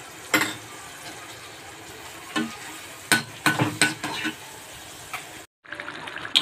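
Chopped onion fries in hot oil with turmeric powder, a steady sizzle broken by scattered scraping and clinking stirs of a spoon in the pan, with a brief cutout near the end.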